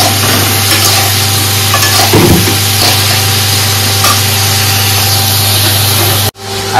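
Vegetable curry being stirred in a pan for a vegetarian Bengali home meal, a steady close scraping and sizzling with a loud constant hum underneath, cut off abruptly near the end.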